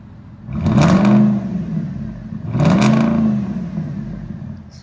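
A 2010 Ford F-150 with a 5.4L Triton V8 and straight-piped true dual exhaust is revved twice in quick succession, each blip rising and falling loudly over a steady idle rumble.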